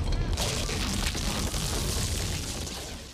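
Floor splitting apart in a film earthquake, created by rubbing an inflated balloon, comes through as a dense, loud, continuous rumbling crackle with groaning creaks that tails off slightly near the end.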